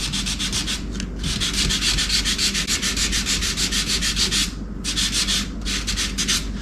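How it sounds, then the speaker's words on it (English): Painted wood lettering is hand sanded with 400 grit sandpaper in quick, even back-and-forth strokes. The rasping rhythm is close and continuous, with one short pause partway through. "I'm going to take 400 grit sandpaper and just lightly rub over the lettering"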